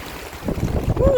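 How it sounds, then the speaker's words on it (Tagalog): Wind roars and buffets the microphone up close in a short burst during flooding at Sterling Business Park, Marilao, Bulacan, with a voice faintly mixed in. "Lakas ng hangin."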